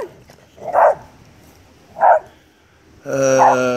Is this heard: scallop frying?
no